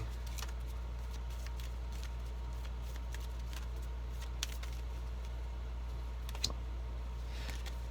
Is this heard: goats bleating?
no